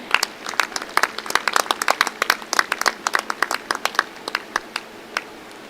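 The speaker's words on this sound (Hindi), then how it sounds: "जोरदार तालियों से इनका उत्साहवर्धन करें" A crowd claps for men's volleyball teams at a CRPF sports event, a close burst of uneven hand claps that thins out over several seconds, no talk.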